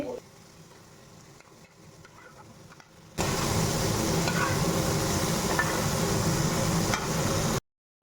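Eggplant frying in hilsa fish oil in a home kitchen, a dense, steady sizzle that starts abruptly partway through and stays loud and close, following a quieter stretch of low background noise.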